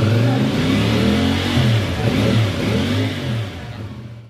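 A 2024 CF Moto 450 CLC motorcycle engine is revved hard up close, its pitch rising and falling through several loud pulls before it eases off at the end.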